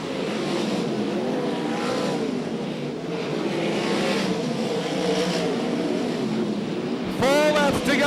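Sprint cars racing at Archerfield Speedway in the 2005/06 World Series Sprintcars finale: a dense, continuous roar of several engines wails and shifts in pitch, with a sharp, high-revving car whooshing close by at the end.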